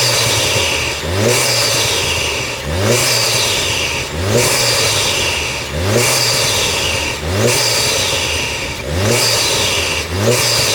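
VW Golf Mk7 GTI engine fitted with a Forge induction kit, revved repeatedly in a steady cycle of rising and falling engine roar, loud and close with intake whoosh between revs.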